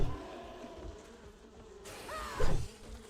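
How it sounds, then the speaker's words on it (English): Bees buzzing in the video game 7 Days to Die, a steady droning hum inside an enclosed space, joined by a louder thump and scrape of game activity near the end. "There's so many bees in here right now."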